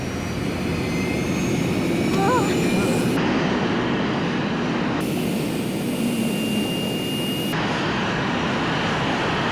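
Airplane engine in flight in a cartoon, a loud continuous jet-like roar that fills the whole clip, with brief voices and small sound effects over it.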